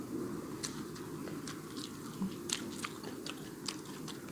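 Someone bites into and chews a big chili pepper, with quiet, close crunches repeating irregularly against a soft background hum.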